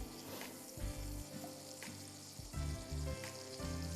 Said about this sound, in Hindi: लहसुन फ्राई हो जाएगा, एक खुशबू सी आ जाएगी